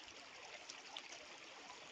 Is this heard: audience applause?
no